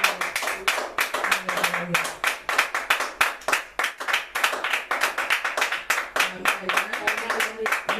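A church congregation claps loudly to acclaim the Lord, with fast, rhythmic, crowded handclaps continuing throughout and voices mixed in under them.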